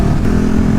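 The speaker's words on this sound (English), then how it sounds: "the Yoshimura exhaust is just wonderful" A KTM 1290 Super Duke motorcycle with a Yoshimura exhaust gives a short, loud, close burst of deep engine rumble with no talking over it.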